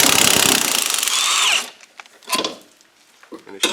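An impact-style power tool rattles loudly and steadily for about a second and a half while removing a 15 mm bolt from the rear suspension of a Ford Focus, then stops, followed by softer clanks and brief handling noises.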